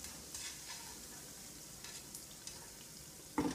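Pakoras fry in hot oil with a soft, steady sizzle and a few light scrapes, ending in one louder clatter, quiet and close with no talking.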